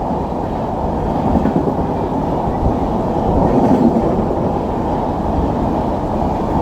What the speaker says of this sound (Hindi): ये शताब्दी एक्सप्रेस है, शताब्दी एक्सप्रेस मुंबई सेंट्रल अहमदाबाद